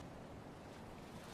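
Ocean surf washing around an island, a steady, dense rush of waves and wind with no distinct breaks.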